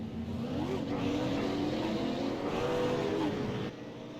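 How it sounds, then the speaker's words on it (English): Pace car engine in an iRacing super late model race at Lanier, firing up and revving with rising and falling pitch. It stays fairly close and steady, then drops away near the end. "Pace car just fired it up and got ready."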